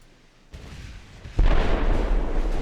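Naval artillery fire in the Ultimate Admiral Dreadnoughts warship game, 11-inch guns, a muffled low boom followed by a louder, heavy rumbling blast that rolls on steadily to the end, with no speech.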